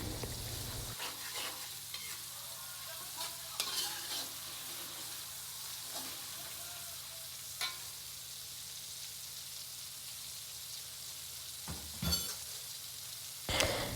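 A spoon stirs chili spice paste in a pan on a stove that is off, giving scattered scraping and clinking strokes with a few brief sharp knocks over a quiet background.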